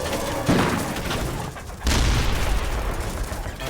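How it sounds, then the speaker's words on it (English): Dense, rumbling bursts of heavy gunfire from a tank's 90mm cannon in battle, with a big boom midway, loud and continuous, no talking. "We're firing the cannon, firing a lot of cannon rounds."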